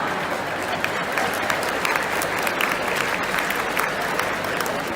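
Steady applause from a large audience at a religious lecture held at Punjab University, continuous dense clapping at moderate loudness throughout.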